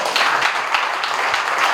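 Guests applaud at a wedding ceremony, a dense, continuous burst of clapping from a crowd, fairly loud and close.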